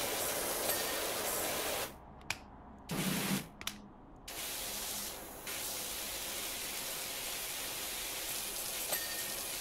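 The pressure washer in PowerWash Simulator hisses out a broad, steady spray that cuts off twice for a moment and then starts again, loud and close, with no voices heard.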